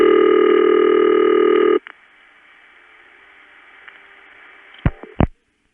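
Long-distance telephone switching tones from a Brooklyn crossbar tandem, 1970s: a loud, steady multi-tone signal lasting almost two seconds, then a faint, hissing, quiet line broken by two sharp clicks near the end.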